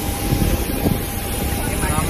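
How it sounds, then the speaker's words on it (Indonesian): Steady broadband roar of a passenger airliner's engines at an airport before boarding on a flight to Bangkok, loud and continuous throughout, close and unbroken. "Ini pesawat yang akan mengantarkan kita guys ya."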